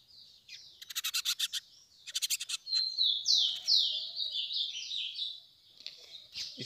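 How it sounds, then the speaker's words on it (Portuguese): A lined seedeater songbird sings close by, opening with quick buzzy trills in short bursts and then running into a bright, rapid warbling phrase, with no voices. "Esse passarinho tá cantando"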